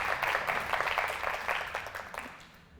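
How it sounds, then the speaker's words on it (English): An audience at an evening business talk applauds a guest, a dense patter of many hands that fades over under three seconds. "can we have another round of applause for Anou Khanijou?"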